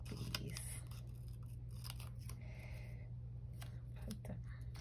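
Scissors are picked up and handled at a desk while paper planner stickers are cut and arranged, giving a few soft, close clicks and rustles over a steady low room hum.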